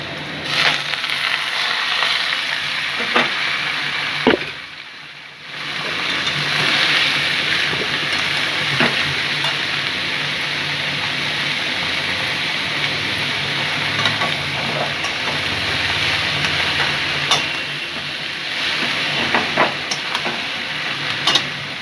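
Radishes are tipped into hot oil with scorched panch phoron and whole garam masala in a pan, making a steady close sizzle and frying hiss with occasional stirring scrapes and a brief lull partway through.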